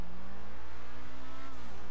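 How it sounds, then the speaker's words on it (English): A Pegassi Reaper supercar in GTA 5 holds a loud, steady engine drone at high speed, its pitch rising slightly and then dropping near the end of the short burst. "I do not believe this is the fastest supercar"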